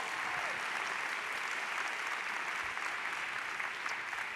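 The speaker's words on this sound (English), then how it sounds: "That's the clap." Lecture-hall audience applause at the Eleanor Clarke Slagle Lecture, a steady, dense roar of many hands clapping that holds evenly from start to finish, moderately loud with no talking over it.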